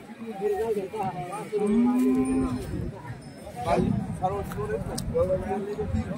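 Cattle at a village bull market give several loud, drawn-out moos close by, amid crowd chatter and a busy outdoor murmur.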